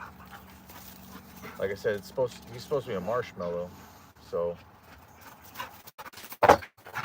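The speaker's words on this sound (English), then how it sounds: "man, these dogs are going crazy" Several dogs bark and yip in bursts out in a backyard while someone talks over them; the barks come in quick clustered runs at moderate distance, with one sharp louder yelp near the end.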